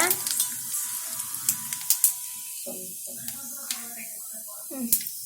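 Cumin seeds dropped into hot oil while tempering for a Bangalore brinjal curry crackle and sizzle in bursts close by, with a voice talking over them.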